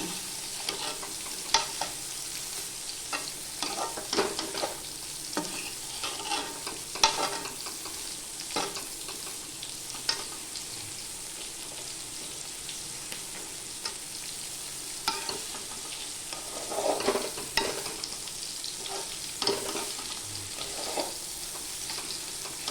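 Beans and carrot are stirred in a frying pan, with soft, irregular scraping and stirring strokes over a faint, constant sizzle and no talking.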